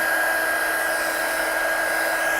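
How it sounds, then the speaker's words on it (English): A heat gun drying a shaker card roars as a loud, steady hiss of blown air with a continuous whine, close and uninterrupted, with no talk over it. "So I'm just going to dry that off with my gun."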